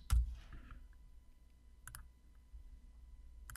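A computer mouse gives a few crisp, close clicks in a quiet room, with one near the start, a quick pair near the middle and another at the end, separated by near silence.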